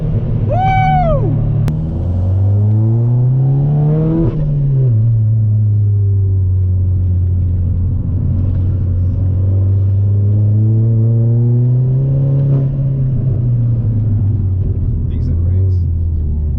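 A tuned 380 BHP SEAT Leon Cupra R engine pulls hard through rising revs, drops on a shift, then climbs again in a loud, close, continuous drone.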